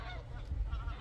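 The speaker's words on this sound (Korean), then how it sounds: "기러기들이 기럭기럭 철새들이 날아다닙니다" Wild geese honk repeatedly while flying overhead in the countryside, a few distant nasal calls over a low background rumble.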